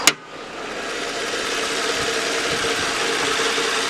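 A 2003 Nissan Maxima SE with its VQ35DE engine idling under an open hood. A faulty part adds extra noise: a broad, steady mechanical hum with faint ticking, following one short sharp click at the start.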